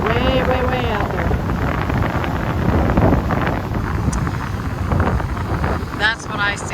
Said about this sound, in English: The wind is blowing, man.